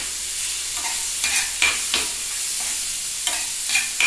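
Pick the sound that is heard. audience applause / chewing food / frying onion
frying onion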